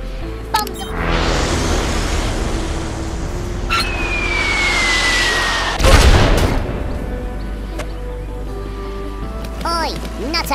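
Bomb explosions in the artillery game Worms W.M.D, a string of loud booming blasts and rumbling bursts with a rising whistle in between, over busy game sounds.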